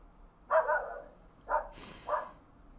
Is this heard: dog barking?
yes